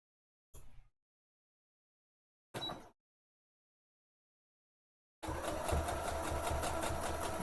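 A home sewing machine gives two short bursts of stitching with silence between them, then runs continuously in a loud, steady mechanical whir until the end.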